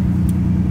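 A Lamborghini Diablo engine idles with a steady low rumble, close and even, while the car is being shifted into reverse.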